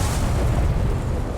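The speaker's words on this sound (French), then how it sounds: "Mais ça, une explosion." A deep, rumbling boom fills the clip with heavy low-end roar that stays loud and sustained, a Shadow of War video game explosion rolling on.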